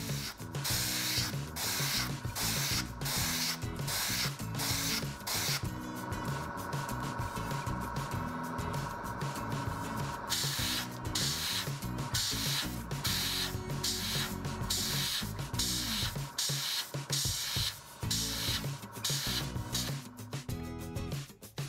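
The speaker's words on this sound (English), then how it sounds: "I also use this diluted black to spray on the smoke from the engine." An airbrush sprays diluted black paint onto a 1/72 scale Fw 190A-5 model aircraft in short, close hissing bursts, broken by brief pauses, with one longer continuous spray partway through.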